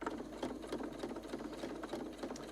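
A sewing machine runs at full speed, a fast, even mechanical patter close by and unbroken throughout, with no talking over it.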